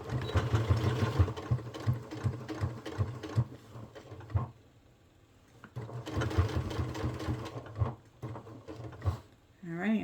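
Sewing machine stitching a dart on a retro fanny pack, running in two steady whirring bursts with a brief pause between, close and fairly loud.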